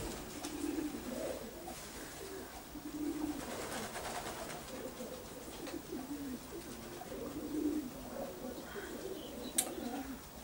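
Breeding pigeons in a loft cooing repeatedly in low, rolling calls, several birds overlapping at moderate distance against steady background noise, with no talk.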